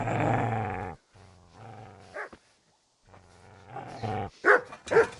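A dog growls and barks in a video game: a long low growl, then a pause, then rising snarls and two or three sharp barks close up, with no talking.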